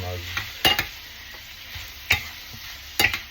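Marinated pork is stirred in a hot pan with bitter gourd nearby, with a soft steady sizzle underneath and several sharp utensil scrapes and clicks against the pan at uneven intervals, close up.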